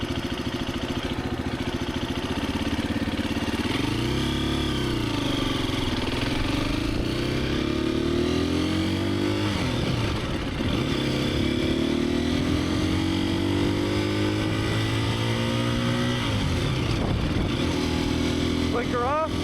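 A Husqvarna FE350S motorcycle rides on public roads, its engine droning steadily with rising and falling revs through gear changes, heard close up and continuous throughout, with a rider's voice talking over it.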